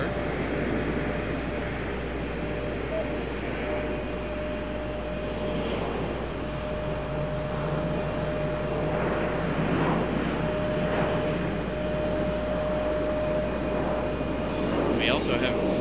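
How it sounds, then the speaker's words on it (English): An Embraer airliner prepares to depart at RDU airport, a steady distant engine whine and low rumble holding throughout with a constant tonal hum, while a person talks over it. "got that Embraer getting ready to depart"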